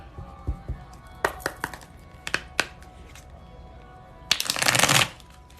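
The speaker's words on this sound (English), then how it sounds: "I want to get it shuffled more." A deck of tarot cards is shuffled by hand in close, crisp bursts: a few soft taps, several quick riffles, then a longer, louder riffle near the end.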